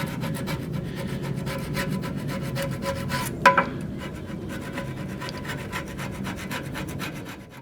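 Old gasket material is scraped off a Big Green Egg grill with steady, close rasping strokes in a quick repeated rhythm, with a couple of sharper scratches midway and no talking.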